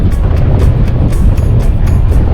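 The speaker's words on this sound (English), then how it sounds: "It's very windy today" Strong wind buffets the microphone while riding an e-bike on a windy day in Shaftesbury, a loud, continuous low roar with rhythmic gusty swells throughout.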